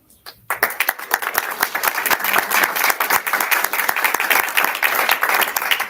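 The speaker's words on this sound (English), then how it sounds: "maybe we should just save the applause until the full rank is up" Audience at a membership meeting bursts into steady applause after a short quiet start, many hands clapping densely and loudly throughout with no speech over it.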